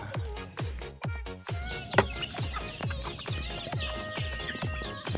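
Chicks inside a poultry cage, a dense mix of high peeping and clucking fowl sounds over steady rhythmic thumping, fairly close and continuous.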